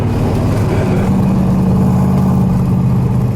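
Fuel-injected 1965 Chevrolet Corvette Stingray Fuelie with a 4-speed runs steadily up close, a loud, continuous low engine rumble holding even throughout with no talk over it.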